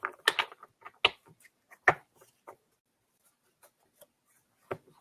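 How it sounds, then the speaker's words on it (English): Sharp crisp flicks and riffles of playing cards in quick bursts, then sparse taps and near silence, close up with no talking. "I'm just shuffling the deck."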